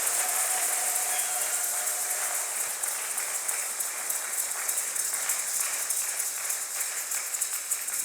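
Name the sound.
congregation applauding and cheering the Lord in church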